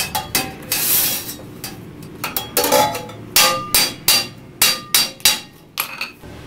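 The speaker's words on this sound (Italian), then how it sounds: "Allora si fa questo con il martello, si opera in questo senso" A UFIP cymbal hammered by hand, sharp metallic hammer blows landing one by one with ringing decay, irregular at first and then settling into a steady rhythm, close and loud.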